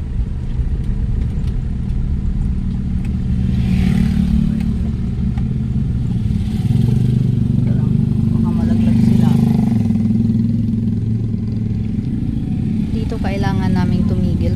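Motorcycles laboring past on a rough, rocky uphill road, a steady loud engine drone that swells and holds throughout, with people talking over it.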